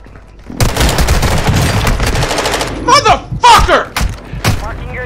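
Rapid bursts of automatic gunfire in a Call of Duty-style online shooter, loud and sustained for a few seconds, then breaking into separate shots and booms, with a voice talking over it.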